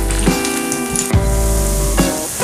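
Veggie fritters frying in hot oil give off a loud, steady sizzle with crackling bursts, heard up close with no talk.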